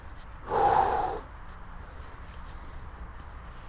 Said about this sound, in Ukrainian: Вдох, видох зробили.